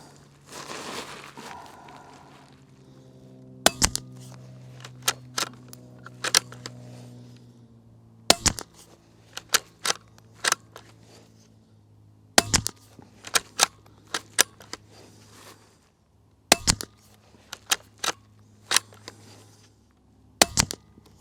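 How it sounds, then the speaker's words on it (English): Ruger Precision Rimfire .22 LR rifle firing Remington subsonic 40-grain rounds at a range, sharp separate cracks spaced several seconds apart, near and clear against quiet background. "We're just going to shoot a 5-round group at 50 yards, just testing out the accuracy of the Ruger Precision Rimfire."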